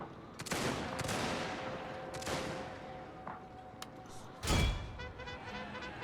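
Massed rifle volleys from an army in a Prussia-era strategy game crackle in several rolling bursts, with a heavier boom near the end, steady battle noise throughout and no talk.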